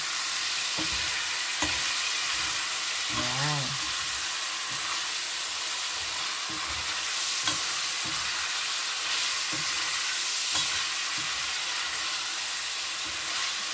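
Squid sautéing for adobong pusit, a steady broad sizzle and hiss from the hot pan running throughout, with a few soft clicks and scrapes of stirring over the frying.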